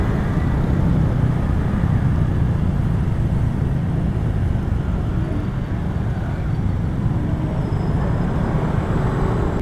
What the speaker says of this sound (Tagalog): Grabe mga motor